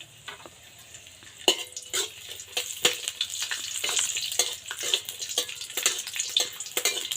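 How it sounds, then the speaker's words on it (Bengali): Almonds and raisins frying in ghee for suji halwa, a steady close sizzle broken by frequent sharp scraping and stirring clicks of a spoon against the pan, with no voices. "এটা ভালোভাবে দুই তিন মিনিটের মতো একটু ভাজবো"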